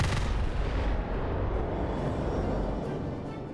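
Naval ship guns fire in the Roblox game Naval 1945, making a loud, continuous barrage of heavy booming blasts that rumble without letup and fade slightly at the end.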